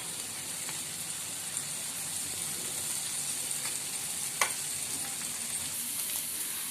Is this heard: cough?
no